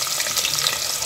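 Chopped onion hitting hot tempering oil for chicken biryani, a dense close crackling sizzle that runs steadily through a short moment.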